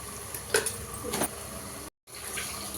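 A spoon stirs a chole masala curry in a pan, giving two short scraping strokes over a low, steady sizzle, with a brief cut to silence near the end.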